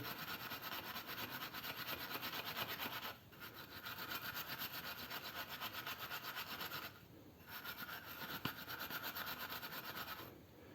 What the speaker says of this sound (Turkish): şu dipleri zımparayla yaparsanız temizlerseniz daha iyi olur